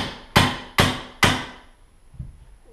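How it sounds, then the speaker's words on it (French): Three sharp, close hammer taps on a punch knock a rivet out of a roller shutter motor, followed by a faint softer knock. "avec un marteau, je vais taper pour le faire sauter"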